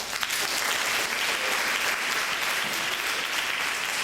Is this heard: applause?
yes